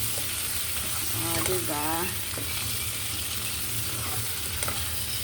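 Okra with garlic sizzles in a pan while being stirred, a steady bright frying hiss running throughout, with a short voice briefly heard in the middle.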